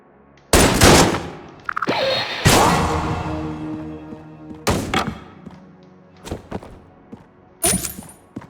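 A 3-in-1 crossbow firing triple shots in Enter the Gungeon gives several sharp, punchy bursts separated by pauses. Each burst has a ringing tail, and smaller thuds follow the bursts.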